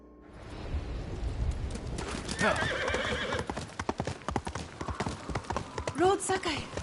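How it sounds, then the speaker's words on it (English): Horse hooves clip-clop in Ghost of Tsushima, then a horse neighs and whinnies near the end, with footfalls rhythmic and close over faint ambience. "Horse!"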